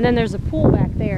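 Gusts of wind buffet the microphone in low rumbles while a person talks over it outdoors at a vacation house in Mykonos, Greece.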